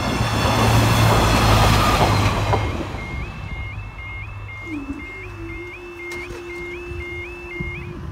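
A Northern Railway class 144 train on the Cleethorpes to Sheffield service rumbles loudly past a level crossing, then recedes as the crossing's warbling alarm tones and a lower siren tone continue.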